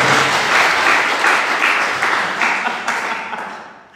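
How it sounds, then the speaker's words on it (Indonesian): A church congregation at a GPdI service bursts into loud, dense applause that holds steady for a few seconds, then gradually fades away. "Berikan tepuk tangan buat Tuhan"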